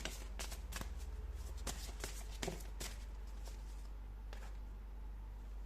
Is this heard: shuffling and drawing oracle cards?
yes